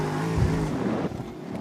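Car engines roar in the street-racing video game CarX Street, a loud revving drone with a brief surge and rough low growl, then a sudden drop as the sound cuts off, with no talk.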